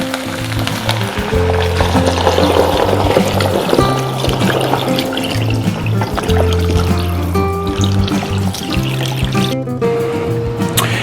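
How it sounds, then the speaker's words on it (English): About four liters of water pours steadily into a stock pot with a continuous trickling splash, close by, over a low background hum and some clinking. "Just gonna add roughly 4 liters of water."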